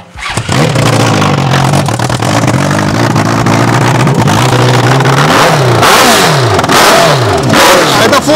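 A homemade vehicle fitted with a large motorcycle engine revs loudly and continuously, the pitch rising and falling in repeated sweeps as the throttle is worked, close and dominating throughout.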